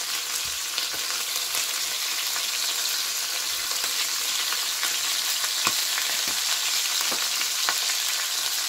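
Beef browning in a pan for boeuf bourguignon, a steady loud sizzle and crackle with occasional light stirring taps, close up and without talk.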